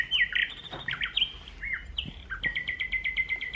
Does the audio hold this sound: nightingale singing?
yes